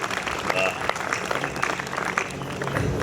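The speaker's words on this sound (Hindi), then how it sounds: "ताली बजा सकते हो" Audience at a Hindi kavi sammelan poetry gathering breaks into applause, a steady wash of clapping of moderate loudness with voices murmuring underneath throughout.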